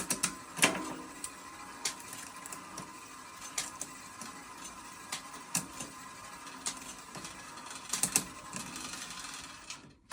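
A bicycle rear derailleur shifts up the cassette one sprocket at a time as the wheel turns, with a steady ticking freewheel whir and several distinct clicks of the chain moving between sprockets, close and fairly loud.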